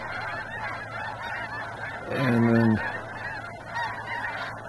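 Snow geese at Bosque del Apache, one loud close honking call standing out above a low background murmur of the flock, with a brief word of speech.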